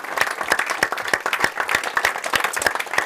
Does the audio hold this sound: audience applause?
yes